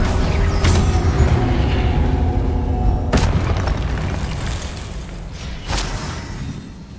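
Incendio fire spell blasts in Hogwarts Legacy: a loud, fiery whoosh and boom opens, then sharp bursts follow near the three- and six-second marks over a rumbling, fading roar.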